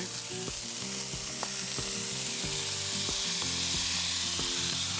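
Bacon frying in a pan in a cafe kitchen, a loud, constant hissing sizzle with a few soft knocks and scrapes of a utensil, heard alone without talk.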